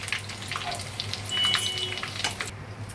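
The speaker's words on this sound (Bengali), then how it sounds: "আমি এখন এগুলো একটা একটা করে ভেজে নিচ্ছি।" Shrimp and banana-flower dhoka fry in hot oil, giving a soft, steady sizzle with small crackling bursts, close and fairly quiet, with no talking.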